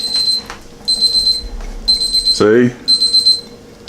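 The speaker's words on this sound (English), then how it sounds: "There's the timer." A kitchen timer rings while eggs boil, sounding as four repeated bursts of high electronic beeping with short gaps between them. Someone speaks briefly over it.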